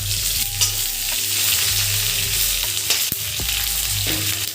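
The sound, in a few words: onions and green chilies frying, stirred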